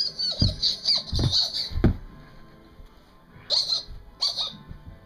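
A voice makes high, squawky hooting calls in short bursts, with pauses between them, close and fairly loud, imitating a monkey.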